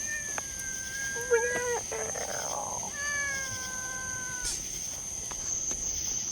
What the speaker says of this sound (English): Walking with my pet cat.